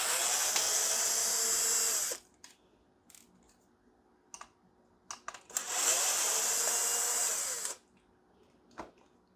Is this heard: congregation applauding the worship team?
no